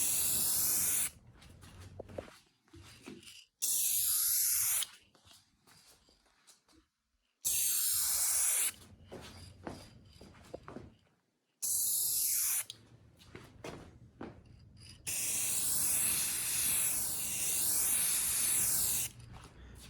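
Krylon Color Max gloss spray paint hissing from an aerosol can onto a DIY guitar overdrive pedal enclosure, loud close bursts of spraying separated by short silent pauses.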